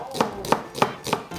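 A knife chops vegetables for broth on a cutting board in a country kitchen, with five sharp, evenly spaced strikes ringing close and clear and no talking.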